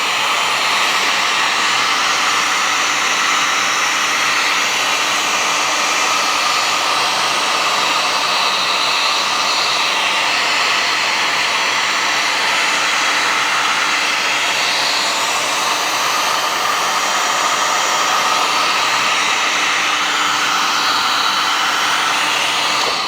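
A heat gun blows hot air onto yellow vinyl wrap for Mazda MX-5 ND daytime running lights, a loud, steady broadband whoosh holding constant throughout with no talking.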